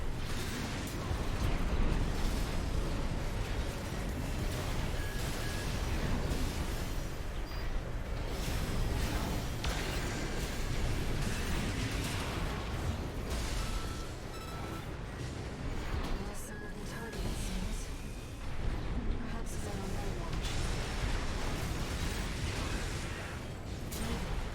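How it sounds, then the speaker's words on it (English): A giant explosion in the mech video game Armored Core 6 rumbles with heavy booming bursts and mechanical clatter, a dense, loud, sustained roar with scattered pops and no voice over it. "that giant explosion that just happened there"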